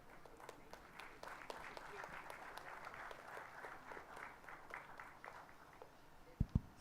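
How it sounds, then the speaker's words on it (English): Sparse, scattered clapping from an audience greeting a speaker in a hall, individual claps distinct rather than a full roar, fairly quiet and distant, ending with two sharp close knocks. "Round of applause was a bit slow."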